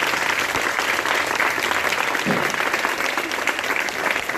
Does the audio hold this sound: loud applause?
yes